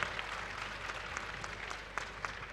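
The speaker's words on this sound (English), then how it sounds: "Can we have a big round of applause?" A quiet, distant audience at an Indian classical dance event in Delhi claps steadily after a recitation, soft and thin with a few sharper claps standing out.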